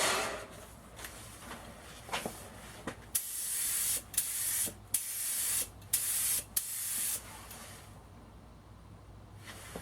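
A spray gun sprays Cerakote coating onto a Tanfoglio TA90 pistol, hissing in a series of bursts, some short and some several seconds long, loud and close, with brief pauses between them.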